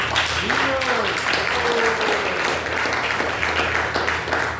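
Audience at a talk applauding with steady, dense clapping throughout, and a few voices blending in underneath.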